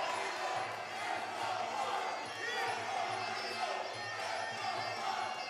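A crowd at a Juan Cortez versus Luis Bravo fight keeps up a steady roar of cheering and shouting, filling the whole stretch at an even level, with commentators talking over it.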